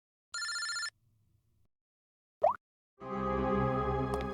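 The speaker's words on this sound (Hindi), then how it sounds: "इनका फोन मत उठाओ तुम।" A telephone bell rings in a short burst, falls silent, then after a brief chirp rings again loudly and continuously.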